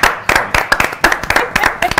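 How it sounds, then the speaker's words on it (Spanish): A studio audience on a Mexican TV morning show bursts into applause, a brief stretch of loud, uneven hand clapping with no voices over it. "¡Un aplauso!"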